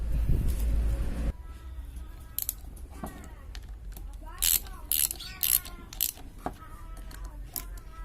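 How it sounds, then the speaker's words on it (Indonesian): A ratchet tool clicks in short bursts as a bolt is fastened, close and fairly loud, with pauses and a little mechanical creaking between runs. "Pasang baut."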